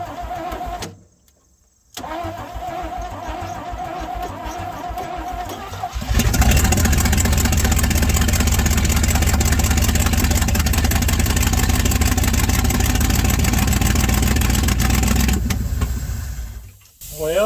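A 1967 Chevrolet C50 truck's engine is choked and cranked after sitting idle for nine years; it catches around six seconds in and runs loud and steady close by, then cuts out as if starved of fuel.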